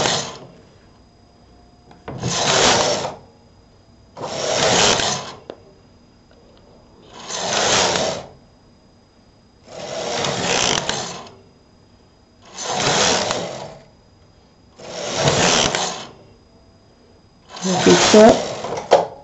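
A knitting machine carriage is pushed across the needle bed eight times in a steady rhythm to knit rows for a cabled sock. Each pass is a close, rough, swishing rumble, separated by short quiet pauses.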